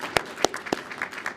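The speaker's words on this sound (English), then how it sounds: "so let's please give her a round of applause." A few sharp, separate hand claps ring out at an appreciation dinner for newly elected members of parliament, three distinct loud claps followed by softer scattered ones, sounding like applause just beginning.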